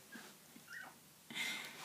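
Tiny 2.5-week-old puppies give a few soft, high whimpers and squeaks close by, quiet and sparse, with a brief rustle near the end.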